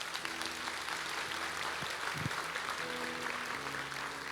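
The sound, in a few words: audience applause in church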